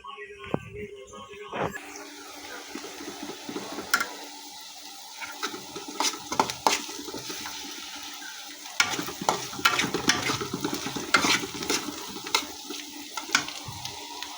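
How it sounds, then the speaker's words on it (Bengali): Onions fry in a pan with a continuous sizzle, broken by sharp scraping and clacking strokes of a stirring utensil that grow busier toward the end. A brief sound at the start may be a voice. "এটা হচ্ছে পেঁয়াজটা ভেজে নেব ভালো করে।"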